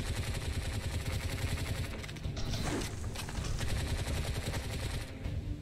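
Rapid gunfire rattles on in the video game Bright Memory, dense repeated shots with mechanical clatter running the whole stretch at a fairly low, steady level.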